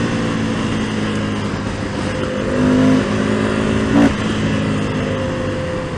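A 2019 Indian FTR 1200S motorcycle accelerates hard at full throttle, its engine note rising steadily and loud and close, with a brief peak around a gear shift near the end.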